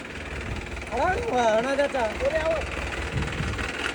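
A low tractor engine idles and rumbles in the background while a person's voice rises and falls over it; the tractor is stuck and being pulled out.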